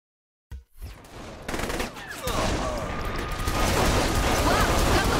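Gunfire in Saints Row: The Third Remastered, starting with a single sharp shot and then a loud, sustained roar of automatic fire and mechanical clatter that builds toward the end.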